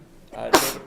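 A single sharp human sneeze, a short breathy intake followed by an abrupt loud burst, close to the microphone in a meeting room.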